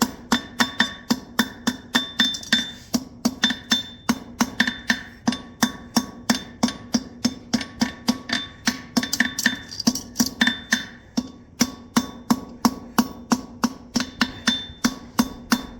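A horseshoe being hammered on an anvil, a long steady series of sharp, ringing metallic strikes at a quick, even rhythm, close and clear with no talk.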